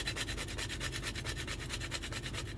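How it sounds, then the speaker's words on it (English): Nutmeg is rubbed fast across a microplane grater in a kitchen, a close, even run of rhythmic rasping strokes with no break and no talk. "grate some nutmeg my very amazing microplane"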